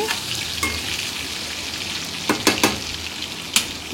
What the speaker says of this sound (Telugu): ఇప్పుడు గరిటతో మొత్తం కూడా ఒకసారి కలుపుకుందామండి.